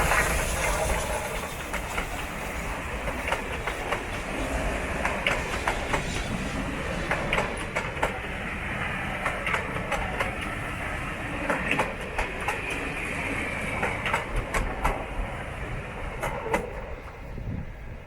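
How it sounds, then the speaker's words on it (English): A train rumbling past near secluded beaches at Goodrington on the Paignton to Kingswear line, a continuous low roar with rhythmic clicking of wheels over rail joints, steady and moderately close throughout. "I'm sure I can hear the train coming"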